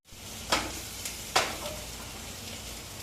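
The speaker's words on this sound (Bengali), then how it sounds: "এই যে ভাজা হয়ে গেল" Soya chunks frying in hot oil, a soft steady sizzle with a couple of sharp crackling pops from a nearby pan, quiet and without talk.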